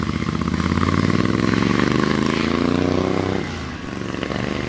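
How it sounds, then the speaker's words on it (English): A 1977 Sportster motorcycle engine runs loud and close, its droning tone climbing steadily in pitch before dropping back and settling into a rough idle. "There's Billy on a 77 Sportster."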